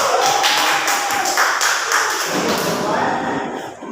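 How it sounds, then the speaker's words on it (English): A room audience applauds a presenting group in a dense, steady burst of many hands clapping close by, tapering slightly toward the end. "let's give them a round of applause"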